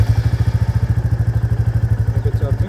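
A Royal Enfield Classic 350 motorcycle runs with its characteristic rapid, even thumping beat, a steady close single-cylinder pulse with no speech over it.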